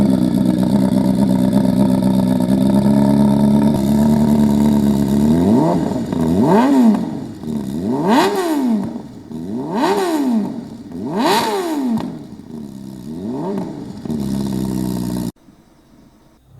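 Flat-plane multi-cylinder motorcycle exhaust idles with a steady drone, then rises and falls through about five sharp, close revs before cutting out abruptly.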